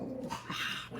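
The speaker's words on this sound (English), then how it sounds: "it was the neighbor's doggy" A neighbor's dog growling and barking nearby, a brief rough continuous snarl that fills the short moment with no talk.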